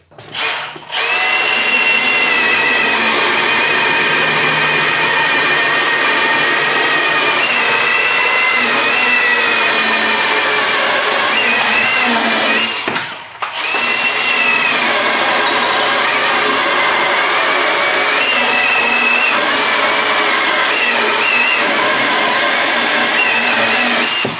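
A Milwaukee battery chainsaw cuts wood with a loud, steady high-pitched whine that runs almost the whole time, broken once by a brief dip in the middle, close up with no talking.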